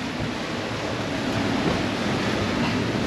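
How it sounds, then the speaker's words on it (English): Steady wind rushing and buffeting aboard a Leopard 45 sailing catamaran at sea in the Gulf Stream off Hatteras, a loud continuous roar with water wash beneath, no talk. "Yeah, the wind."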